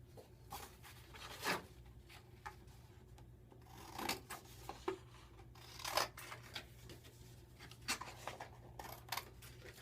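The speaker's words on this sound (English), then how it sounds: "you're going to cut a 2 inch by 2 inch square out of your black" Scissors snip through black construction paper in a handful of quiet, close, separate cuts with rustling paper between them, heard alone in a still room.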